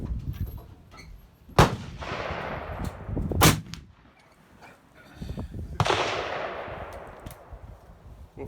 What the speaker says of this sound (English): We'll fire 3 shots and then see what the results are.